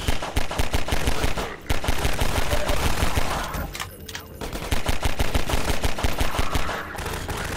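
Rapid submachine gun fire from the shooter game Half-Life 2 Episode 1, loud sustained automatic bursts with brief pauses, close and dense throughout.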